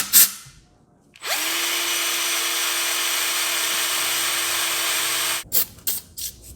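A drill bores into the cylinder head of a naturally aspirated AMG V8 to remove a broken stud, a close, steady high whine lasting about four seconds that starts and stops abruptly, with a few handling clicks afterward.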